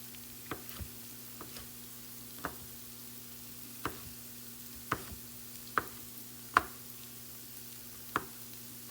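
A knife roughly chops tomatoes on a board with sharp, sparse, evenly spaced thuds, about a dozen strikes at an unhurried pace, close and fairly quiet over a steady low hum.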